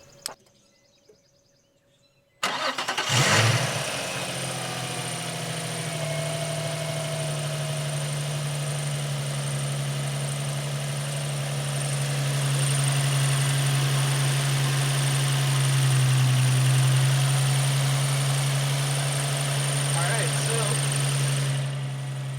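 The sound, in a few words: car engine running, tensioner bearing noise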